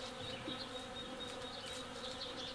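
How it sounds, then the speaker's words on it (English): A whole swarm of bees searching for a new home, a steady, dense buzzing drone that hangs close and unbroken throughout, with individual insects whining past now and then. "It's a whole swarm trying to find a new home, apparently."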